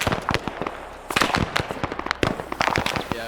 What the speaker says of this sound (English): Those grenades going off or what?